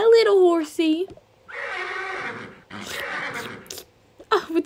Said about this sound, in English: Oh, it's a horsey. Hi, little horsey.